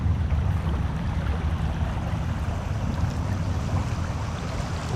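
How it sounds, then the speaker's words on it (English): Steady, fairly loud rush of flowing water on the Lehigh River at Trichlers, a continuous broadband roar with low rumble, unbroken for the whole stretch with no voices. "This is the Lehigh River at Trichlers."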